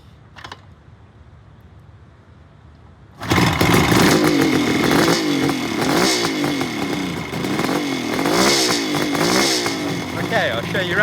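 After a few quiet seconds, the engine of a 1975 Kawasaki H2 750cc two-stroke motorcycle fires up abruptly, loud and close, then revs repeatedly with rising and falling pitch sweeps.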